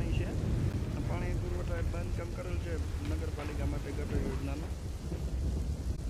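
Heavy monsoon rain pours steadily over Kutiyana, Gujarat, a dense continuous hiss filling the whole stretch, with a person talking over it throughout.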